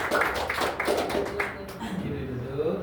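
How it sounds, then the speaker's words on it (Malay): A classroom of students claps for a classmate, a short burst of fairly faint, rhythmic hand claps that fades into quiet room noise with some voices. "tepuk tangan untuk Bakir"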